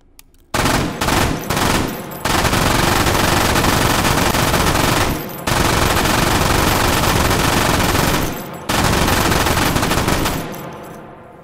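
A machine gun fed from a 200-round belt box in the VR shooter H3VR fires long, loud, dense bursts, with a few short opening bursts followed by sustained automatic fire broken by brief pauses.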